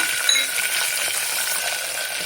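Raw green peas, about a cup, tipped into a hot pan while cooking tomato bath, giving a steady, even sizzle of frying that holds throughout without a break.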